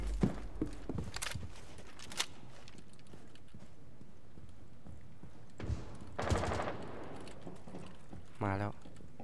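Gunfire in the video game Rainbow Six Siege: a few sharp bursts of shots early on and more gunfire later, mixed with game effects while someone talks over the action.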